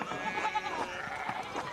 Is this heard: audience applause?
no